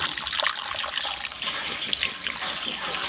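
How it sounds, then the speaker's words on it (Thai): Running water streams steadily over wolffia (water-meal) as it is washed, giving a continuous bright splashing and trickling sound with no clear voices. "ล้างทำความสะอาด"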